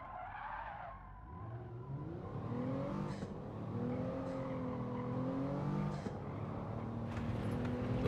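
A race car in a racing video game, taken a bit too fast through corners: a steady, moderately loud engine note rises and holds, with tire skidding and squeal mixed in throughout.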